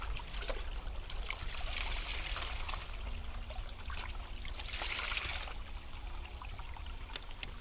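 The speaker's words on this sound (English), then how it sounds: "dump it in your bucket, and you just wash it all" Gold prospecting material being washed in a bucket of water, with faint sloshing and trickling and occasional louder swishes over a low steady background.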